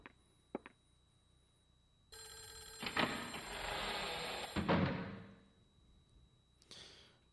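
An old-fashioned electronic telephone ring in the video game Clock Tower: The First Fear sounds loudly for a couple of seconds after a few soft clicks, then cuts off, with a brief burst of tone afterward.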